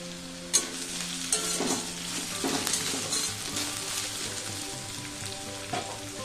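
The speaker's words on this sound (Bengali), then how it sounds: "আলুটা একটু ভেজে নেবো 2 মিনিট, তারপরে শাকটা দেবো।" Potatoes fry in a pan for a lettuce-leaf dish, a loud, close, steady sizzle broken by a few scrapes and clinks of stirring, with no speech.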